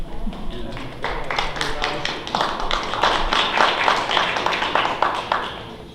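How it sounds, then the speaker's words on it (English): An audience in a workplace in-service meeting breaks into scattered, uneven clapping that swells and then gradually fades, fairly close and moderately loud. "Applause is not necessary."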